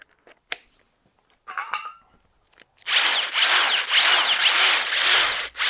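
A Makita 40V XGT 3/4-inch power tool, likely an impact wrench, runs loud and close in steady bursts for the last three seconds, following a few scattered clicks and handling noises.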